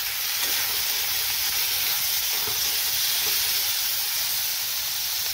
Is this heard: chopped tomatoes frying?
yes